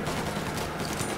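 Dense, continuous gunfire from several weapons in the Mafia Definitive Edition video game, a loud steady fusillade with no pauses and no speech.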